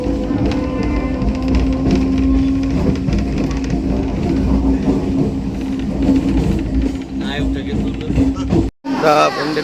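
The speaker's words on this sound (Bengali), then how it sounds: "ট্রেনটা ছাড়লো সময় মতন" A Katwa local train runs along the tracks near Bandel, a loud continuous rumble and rattle of the carriages with a steady drone, cut off abruptly near the end; people talk over it.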